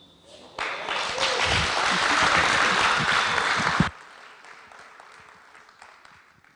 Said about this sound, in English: let's clap for our oldest community leader, Shosho.